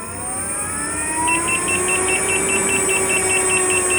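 A controller on an electric ride gives short, evenly spaced warning beeps as power nears the cutout limit. The high chirps repeat quickly over a steady rising motor whine, close and fairly loud, with no talking.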